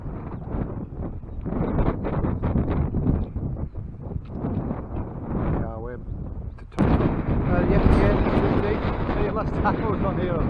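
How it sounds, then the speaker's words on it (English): Strong wind buffets the microphone on an open hilltop near Dent, producing loud, rumbling low gusts that swell and surge, with a harsher, louder blast arriving in the last few seconds. "very windy on top of there."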